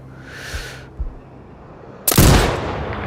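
A single sharp sniper rifle shot in Sniper Ghost Warrior Contracts 2 cracks out loud and close, then rumbles into an echoing tail. Quieter small thumps and a brief hiss come before it.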